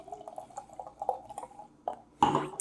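Barrel-aged barleywine beer, Cerebral/Fort George Cosmic Vertigo, poured from a wax-sealed bottle into a glass: a soft, close trickle with faint drips, ending in a louder splashing burst.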